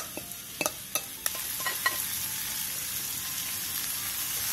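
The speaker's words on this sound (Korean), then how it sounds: "팬에 기름을 두른 뒤 재워놓은 고기를 넣고 센 불에서 볶아주세요." Marinated meat stir-frying in an oiled pan over high heat, a steady soft sizzle with several sharp clicks and taps of a utensil against the pan early on, no voices.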